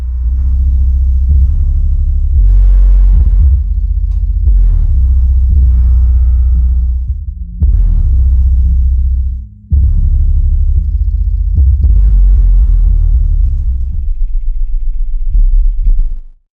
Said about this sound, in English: hook it up to some subwoofers and see how it sounds on the quad box